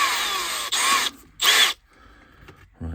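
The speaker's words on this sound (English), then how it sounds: "I do need to drill out the axle boxes so that the wheels will fit in" A power drill bores out the axle boxes of a 3-rail Graham Farish Dublo model locomotive, Sir Eustace Missenden, in three close, whining bursts separated by short pauses, followed by faint clicks and a brief low knock.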